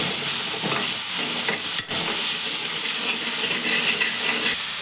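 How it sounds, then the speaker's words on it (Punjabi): Finely chopped potatoes sizzle steadily in a hot pan while being stirred and mixed for fasting-style samak rice, a loud continuous frying hiss with a brief scraping dip, no talk. "ਆਲੂਆਂ ਨੂੰ ਆਪਾਂ ਚੰਗੀ ਤਰ੍ਹਾਂ ਮਿਕਸ ਕਰ ਲਵਾਂਗੇ"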